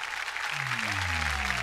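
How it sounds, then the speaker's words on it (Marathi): A television show audience applauding steadily throughout, with sustained musical tones sliding underneath the dense clapping. "एकदा जोरदार टाळ्या होऊन जाऊ दे"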